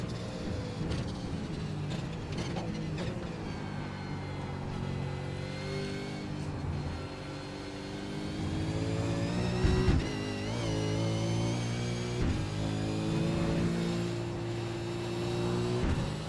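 A V8 Supercar in the iRacing sim races through the final chicane at Road Atlanta, its engine droning steadily as the pitch rises and falls through gear changes and corners, with no voices.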